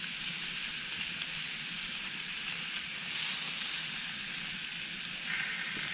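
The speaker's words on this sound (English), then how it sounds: "put just a little bit of this garlic and butter on there." Three steaks sizzle on grill grates while garlic butter is spooned over them, giving a steady, fairly close hiss and crackle that holds evenly throughout with no talking.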